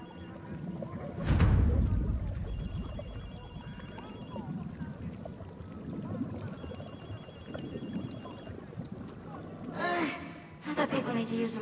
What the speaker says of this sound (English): Do you hear a phone? That's definitely odd.